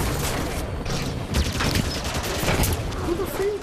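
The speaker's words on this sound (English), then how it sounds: "Who is shooting me?" Rapid gunfire aimed at the player during a Halo 5 Guardians battle: dense, overlapping bursts of shots and impacts crackling continuously at close range for a few seconds.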